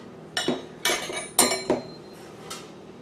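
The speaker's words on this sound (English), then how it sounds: "These are 1/2 cup scoops" Half-cup measuring scoops clink as sugar is scooped for a red velvet cake, with four or five sharp metallic knocks spaced unevenly over a few seconds, fairly close and with no talking.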